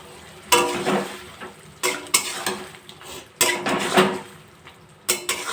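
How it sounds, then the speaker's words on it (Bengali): Fried paneer tossed through spice paste in a pan for chilli paneer: several loud metal spatula clanks and scrapes in irregular bursts over a low background sizzle, close by, with no speech. "এবার পনিরগুলো দিয়ে মশলা দিয়ে ভালো করে কষিয়ে নেব"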